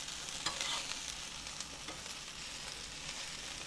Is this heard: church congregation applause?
no